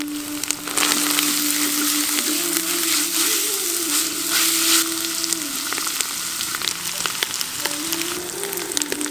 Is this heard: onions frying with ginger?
yes